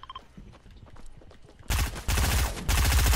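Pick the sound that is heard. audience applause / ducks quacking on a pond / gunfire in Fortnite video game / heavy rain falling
gunfire in Fortnite video game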